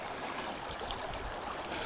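The Crocodile River near its source in Gauteng, South Africa, gives a steady, even rush of flowing water, broadband and continuous at moderate level, with no voices.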